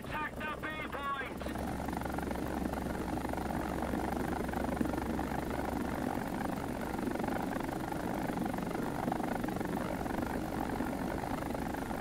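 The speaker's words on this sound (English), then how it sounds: "I'm actually playing a chopper right now." A Ka-52 attack helicopter in a combat video game flies with a steady, dense rotor and engine drone that stays loud for the whole stretch, after a brief burst of chirpy electronic tones at the start.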